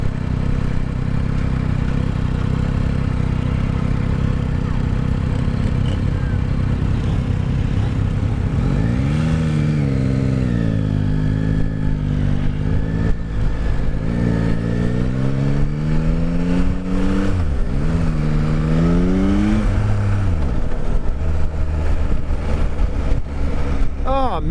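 A Yamaha Tracer 9 sport touring motorcycle engine idles, then is revved several times in rising and falling sweeps before settling back, close and fairly loud with a smooth tone.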